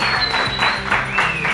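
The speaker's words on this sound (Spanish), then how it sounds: "¡Un aplauso para Gaby!" A small group applauds for a participant during a HIIT workout challenge, giving brisk, loud clapping close by with a few excited voices mixed in.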